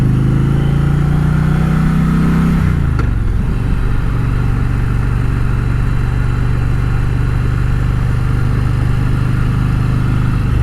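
An Indian Challenger Dark Horse motorcycle engine under way, a loud, close mid-range drone that climbs in pitch, shifts down abruptly, then settles into a steady cruising rumble with wind noise.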